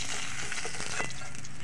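Katla fish pieces frying in hot oil give a steady, close sizzle throughout, with a few brief crackles and spatters rising out of the even hiss.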